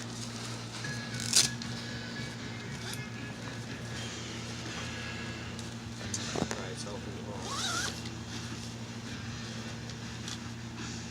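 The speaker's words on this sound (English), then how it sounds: "It does have a zipper here on the end that allows you to open for ventilation." A zipper on the end vent of a Kammok Sunda hammock tent being worked, with short rasping bursts near the start and middle under a steady background hum and some low voices.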